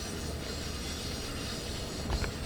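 A steady, continuous rumble of an ACS-64 electric locomotive accelerating under power in Train Sim World 2, with a faint rhythmic clatter of wheels near the end; no voices.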